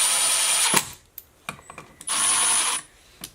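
A power drill drives screws into a blue electrical work box in two short whirring bursts, with clicks and clatter of handling between them, close and loud.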